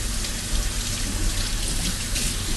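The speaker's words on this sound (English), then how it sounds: "So I'll rinse now." Tap water runs steadily into a kitchen sink as hands are rinsed while mashing bananas for a banana cake, a continuous close splashing wash with no voices.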